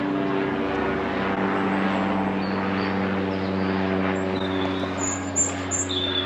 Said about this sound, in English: as an aeroplane goes up